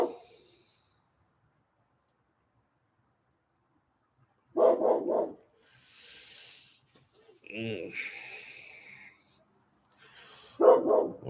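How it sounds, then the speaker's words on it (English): A dog barks in a few short, close bursts separated by quiet gaps. A soft rubbing noise and a brief murmur from a person come in between the barks. "why are you barking?"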